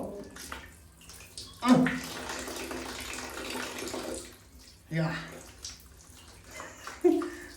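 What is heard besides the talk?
running water during bathing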